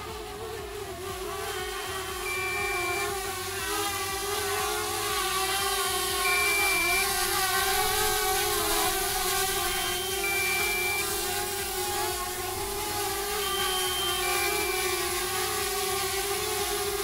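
A DJI Mavic Air drone hovers and descends to land outdoors in wind, its propellers giving a steady high whine and buzz that holds loud and unbroken, with wind noise underneath and no talk.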